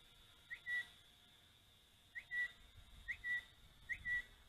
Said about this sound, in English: Look, it gives off a little whistle when you do the trims.